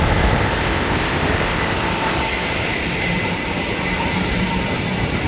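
A Boeing 787 Dreamliner taxis for takeoff at Manchester Airport, its jet engines giving a steady, loud, broadband roar and whine that holds evenly throughout with no voices.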